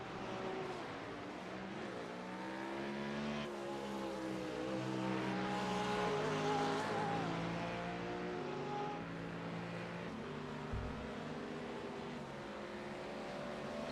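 Race cars run at Barber Motorsports, engines droning and shifting pitch as they pass in a close pack, loud and continuous.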